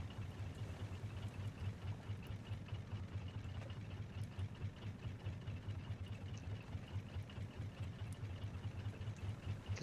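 Boat engines in the video game Raft run at a steady idle, a quiet low rumble with an even pulsing throb and no voices.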